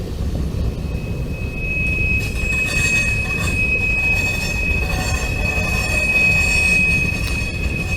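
CSX freight cars roll past a road crossing on Osie Davis Parkway, a loud steady rumble of wheels on rail with a sustained high wheel squeal ringing throughout, close and continuous with no talk.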